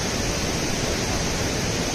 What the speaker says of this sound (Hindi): पानी देखो झरुची जो तलु आम आपको जो देखे जो वाटरफॉलटा